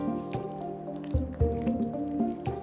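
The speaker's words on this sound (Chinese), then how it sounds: "首先呢，我们先加少许的盐，搅拌上劲。" Minced pork, three parts fat to seven lean, stirred with a little salt until sticky, giving close wet squishing and soft dripping sounds with a few sharper thuds, no talk.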